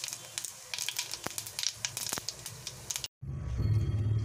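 Whole cumin seeds fry in hot oil with dried chilli and cardamom for a Bengali gourd-and-prawn dish, producing loud close crackling pops and spattering, then a brief cutoff and a steadier, lower sizzle.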